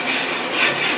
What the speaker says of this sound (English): Let me scrape this.